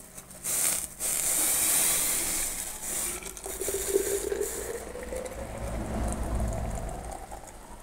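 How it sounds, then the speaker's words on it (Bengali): Freshly boiled water poured from a pot, a steady rushing splash that starts abruptly and runs continuously for several seconds, close and fairly loud, with its pitch shifting as the vessel fills. "জলটা ঢেলে নেবো আমি।"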